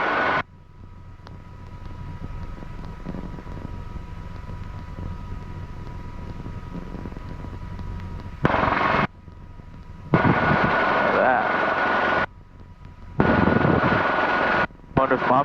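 A Hughes 269A light helicopter in flight, its steady rotor and engine drone heard from inside the cabin, with sudden louder bursts as the noise shifts and cuts in and out.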